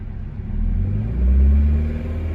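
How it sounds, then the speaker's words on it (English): A 2001 Mazda Miata engine idling low, then revving up into a deeper, louder rumble that swells and eases back down, heard close. "rev it up for you a little bit."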